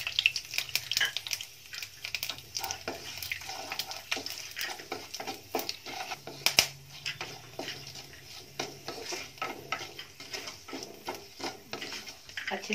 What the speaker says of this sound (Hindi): वन टीस्पून जीरा, और अपने ये खड़े मसाले रोस्टेड कर लूंगी मैं।